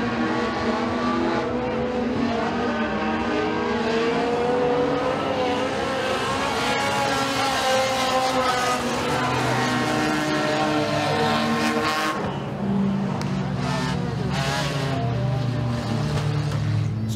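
Race cars roar around the dirt oval at Eriez Speedway during a heat race, a dense continuous engine drone rising and falling as the pack passes, loud and near with crowd-like wash behind.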